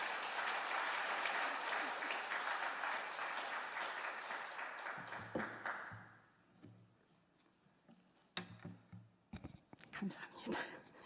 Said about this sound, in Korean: 우리 크게 한번 격려의 박수